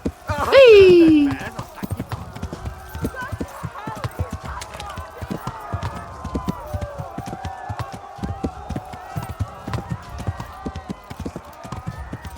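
A horse gallops in the video game Kingdom Come: Deliverance. A loud whinny opens the clip, followed by a steady, rhythmic clip-clop of hooves, while a player talks throughout.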